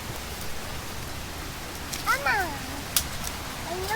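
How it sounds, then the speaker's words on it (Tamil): Water falls steadily in a village setting, a continuous soft splashing hiss, with a few brief high squeaky chirps rising above it midway. "தண்ணி விழுகுது"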